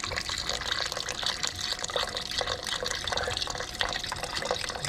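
Chicken stock pouring steadily from a carton spout, a continuous close liquid rush with faint uneven glugging pulses running the whole time, no talking.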